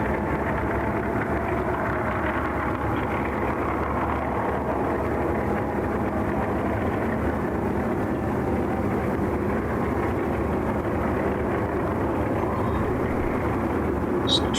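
Tractors passing outside, a steady low, heavy engine rumble lasting throughout at moderate distance, droning continuously with little change in level.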